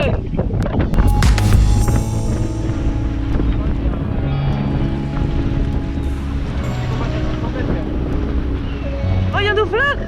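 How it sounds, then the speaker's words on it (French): Wind blows hard and steadily across a boat at sea leaving a channel, a constant rushing buffet with engine drone beneath, while people talk throughout. "Donc ça souffle bien. Il y a un peu de vent là."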